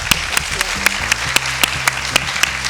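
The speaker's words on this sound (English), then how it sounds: "Let's give her a big round of applause" Studio audience at a women's TV show taping applauding a guest, steady clapping with distinct sharp claps standing out at a regular pace over a low musical bed.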